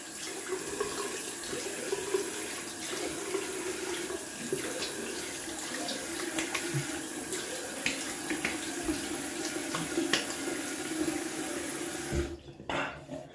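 Running sink tap after wet shaving with a Caveem double-edge razor, water flowing steadily with soft splashing as cold water is thrown on the face, continuous then cutting off near the end.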